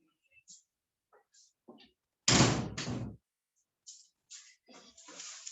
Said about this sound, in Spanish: Aguarden que voy a cerrar una puerta.